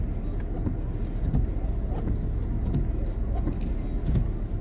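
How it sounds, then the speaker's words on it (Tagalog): Steady, heavy wind of a snowstorm roars continuously with low rumbling gusts, filling the whole stretch without pause. "Storm to eh, malakas ang hangin, malakas ang snow."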